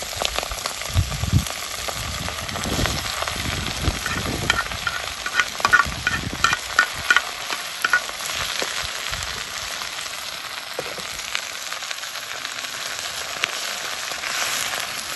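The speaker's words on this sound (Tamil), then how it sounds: "வெங்காயம் மிளகாய் எல்லாம் வதங்கிடுச்சு அடுப்புனால சீக்கிரமாக வதங்கி" Onions and chilies sizzle and crackle steadily in a hot pan over a wood-fired stove, with occasional stirring scrapes, close by and with no talk.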